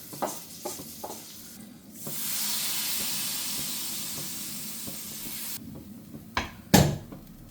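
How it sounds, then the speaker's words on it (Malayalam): Hot fried onion and chilli tempering is tipped into a fish curry with mango and coconut milk, letting out a loud, sustained sizzling hiss that swells after a few clinks and dies away into utensil knocks. "ഇനി ഇത് നമുക്ക് ഈ ഒരു മീൻകറിയിലേക്ക് ഒഴിച്ചു കൊടുക്കാം"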